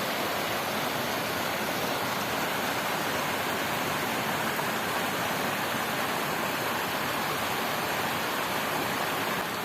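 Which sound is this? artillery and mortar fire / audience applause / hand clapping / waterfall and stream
waterfall and stream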